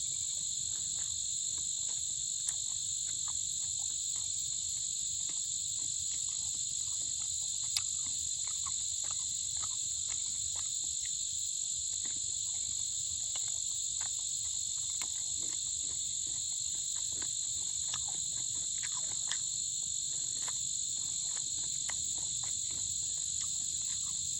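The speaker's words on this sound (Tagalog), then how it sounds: "Mga kuliglig." Crickets chirp in a dense, continuous high-pitched drone, with faint scattered clicks and rustles beneath, no voices.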